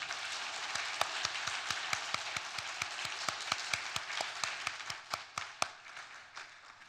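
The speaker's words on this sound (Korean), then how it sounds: "큰 격려의 박수 주시기 바랍니다" A church congregation claps steadily in a moderately distant, evenly paced round of applause that lasts several seconds before tapering into a few scattered claps.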